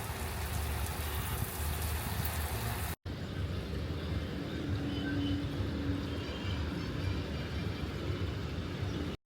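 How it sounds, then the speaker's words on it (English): Steady rain in Cartagena, Colombia hisses and patters continuously, fairly loud and close, with a brief cut near the start and another at the end. "So hiding from the rain"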